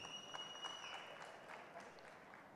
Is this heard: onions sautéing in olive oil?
no